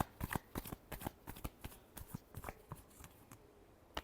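Tarot cards are shuffled close up in a rapid run of crisp riffling slaps and flutters that fall into a quick, uneven rhythm, with no talking over them.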